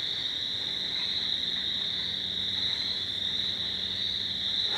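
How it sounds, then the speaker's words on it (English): A dense chorus of frogs calls steadily from a swampy area, a thick shrill trill at a distance, with a faint low hum beneath. "There's a kind of a swampy area right in there, and that's where all those frogs are at."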